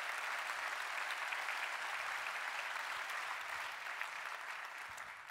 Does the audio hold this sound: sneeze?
no